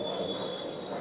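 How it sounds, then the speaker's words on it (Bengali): Kulik Express train pulling away from Rampurhat station, heard from inside a coach as a low, steady rumble of wheels and carriage with a thin, constant whine above it. "ট্রেন ছেড়ে দিয়েছে"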